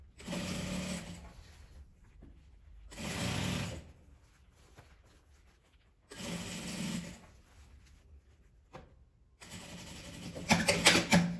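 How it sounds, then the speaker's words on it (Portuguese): A sewing machine runs a seam around a small nylon phone-charger pouch in bursts of steady mechanical whirring, broken by short pauses, with a final faster, brighter run at the end. "Agora eu vou passar uma costura em volta dela e vou deixar uma pequena abertura pra gente desvirar a nossa peça depois de pronta"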